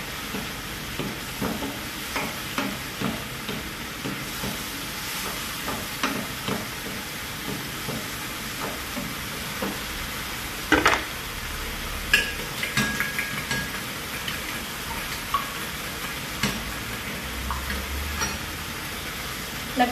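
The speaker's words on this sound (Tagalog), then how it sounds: "Saka ito yung bagoong ihalo ko." Bagoong shrimp paste is stirred into a frying pan, a steady sizzle beneath repeated scraping and clacking of a utensil against the pan, with a few louder knocks, close and continuous.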